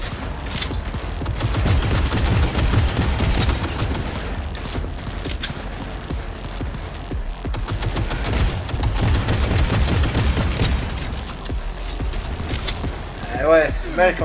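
Sustained automatic turret gunfire in the video game Cyberpunk 2077, loud and continuous bursts with mechanical clatter, with a person talking over it.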